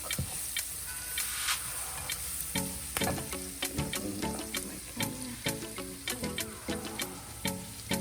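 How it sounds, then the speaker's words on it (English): Flour cooks in a pan for macaroni au gratin with a continuous sizzle, broken by quick, sharp utensil taps and scrapes in an uneven rhythm. "I'm gonna go ahead and add in my flour and let that cook out a bit"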